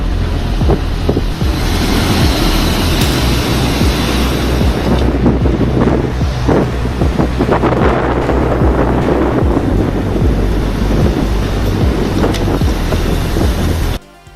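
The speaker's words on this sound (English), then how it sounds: "Look at how thrilling yet frightening the storm looks on the shore" Stormy ocean surf churns and crashes on the shore, a loud, continuous roar heavily buffeted by wind on the microphone, with no voices.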